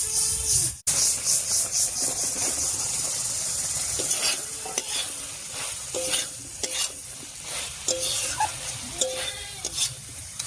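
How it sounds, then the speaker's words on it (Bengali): Fried potatoes are sautéed with spice paste in a pan for a magur fish curry, giving a steady sizzle under repeated scraping stirs that come in short bursts. "আর আলুটা দিয়েও একটু কষিয়ে নেব।"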